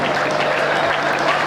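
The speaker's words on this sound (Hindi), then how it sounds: "ताली आपके लिए आ रही है" An audience at a Hindi comic poetry gathering claps in a loud, dense, steady burst of applause heard up close, with no voices over it.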